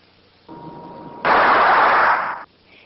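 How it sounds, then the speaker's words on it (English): A dry brown crystal of nitrogen triiodide, a contact explosive, decomposes at the touch of a feather: a short sharp bang leads straight into a loud, broad rushing burst that holds for about a second before cutting off. "This brown compound is so sensitive when dry that just touching it with a feather causes an explosive decomposition."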